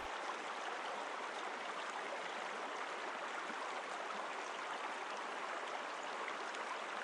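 River water flows and churns steadily, with whirlpools forming midstream, giving a dense, even rushing sound close by and constant throughout, with no voices.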